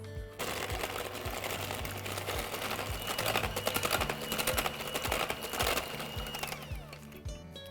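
Electric mixer beating the wet ingredients for a red velvet cake batter, including milk, a steady continuous whirring drone with rattling texture that holds for several seconds at moderate loudness with no talking.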